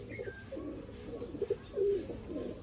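Breeder pigeon, a hot-tempered male flyer, cooing softly in low repeated murmurs over a steady background hum, with a couple of brief louder coos near the end.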